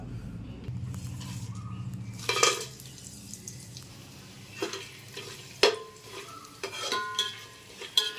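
Whole biryani spices fry in oil in a pot for Muslim-style chicken biryani: mace, black cardamom, bay leaves, cloves, cardamom and cinnamon. Soft sizzling sits under intermittent metallic ladle stirs and clinks against the pot.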